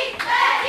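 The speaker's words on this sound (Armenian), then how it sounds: "Ուրա, ծափահարություններ։" A brief burst of hand clapping at a children's quiz game show event, moderately loud and close, lasting under a second with no voices on top.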